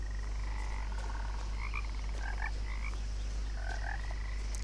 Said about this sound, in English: All these frogs around me.